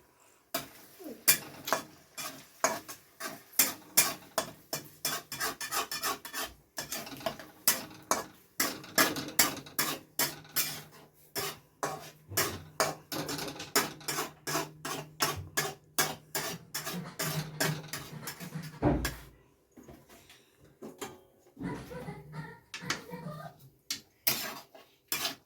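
A utensil beating eggs in a bowl, producing quick rhythmic clinks and taps that continue steadily for about twenty seconds before slowing into a few scattered knocks, close and clear.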